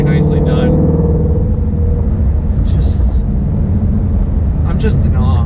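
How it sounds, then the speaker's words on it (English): A Ford Shelby GT350 cruises at about 45 mph, its engine a steady low rumble with road noise, while someone talks over it from inside the car. "I'm right now just doing 45 miles an hour, just cruising in this car"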